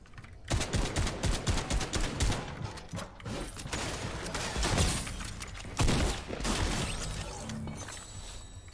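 Rapid bursts of gunfire from the video game Fortnite, dense, loud and rattling, with short pauses between volleys and a steady stream of mechanical clatter in between.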